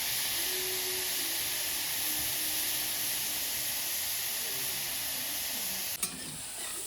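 Wild greens frying in a pan on a wood-fired clay stove, giving a steady, close hissing sizzle that holds evenly throughout, broken by a brief clink near the end.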